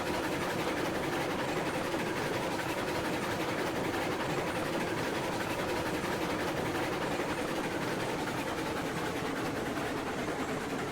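A train rolling over freshly laid track in the railroad game Railroads Online, giving a steady, continuous rumble and clatter that holds at an even loudness for the whole stretch with no voices.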